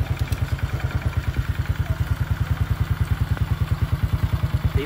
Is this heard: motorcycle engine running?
yes